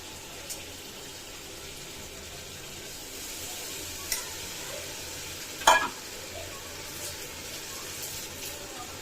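A pot of Hyderabadi chicken polao, just splashed with a little water over high heat, gives a low, steady simmering hiss, broken by a few sharp clinks and scrapes as it gets stirred.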